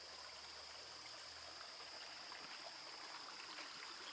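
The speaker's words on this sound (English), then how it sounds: "There's a bit more water in the stream because of the rain we had." A rain-swollen stream flows steadily nearby, a constant broadband rush of water with a faint trickling texture, no voices over it.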